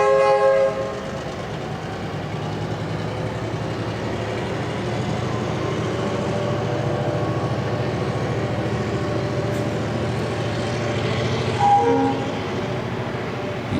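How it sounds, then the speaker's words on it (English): A Y-class shunter locomotive tows a carriage set at Geelong Station, a steady loud diesel engine drone with rail rumble throughout and a brief horn-like tone near the end. "its very own allocated Y-class shunter to tow the carriage set from the back into the Carriage Wash"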